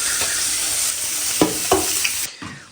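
Hilsa fish frying in a pan, a continuous loud sizzle with several sharp stirring scrapes and clacks toward the end before the sizzle cuts out.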